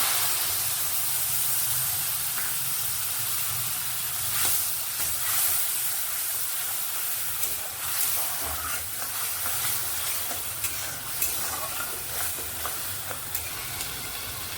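Spices are frying in a hot pan, producing a close, continuous hissing sizzle that flares now and then as they are stirred, with scattered clicks of the utensil against the pan and no talking.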